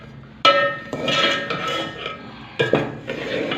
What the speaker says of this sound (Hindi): चम्मच आप हिलाते रहेंगे।